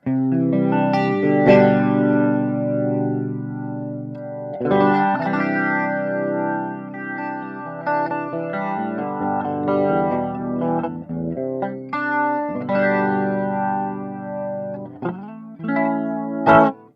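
Electric guitar through a simulated boutique amp in AmpliTube 5 Max with a choke effect engaged, playing loud chorus-tinged distorted chords and riffs that cut off abruptly in short choppy bursts, with no talk.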